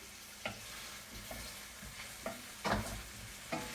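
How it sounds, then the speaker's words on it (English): Red pepper and carrots sizzle in a pan, a soft steady fry with several clattering stirs of a utensil at irregular intervals, close and without talking. "now you can see I have the red pepper and the carrots sauteing"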